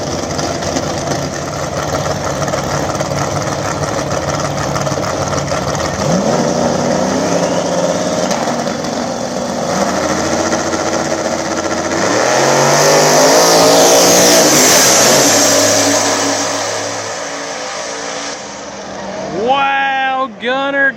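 Nitrous-fed Fox Body drag cars in a small-tire no-prep race roar loudly down the track, engines revving and rising in pitch as they pass, with crowd and announcer talk over the din.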